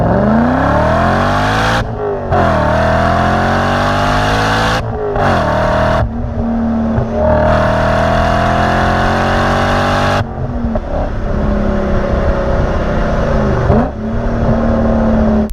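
A BMW E39 M5 sedan, dyno-tuned to 473 wheel horsepower, revs loudly up and down in repeated pulls, its engine note climbing steadily several times with brief pauses between, close and alone with no talk.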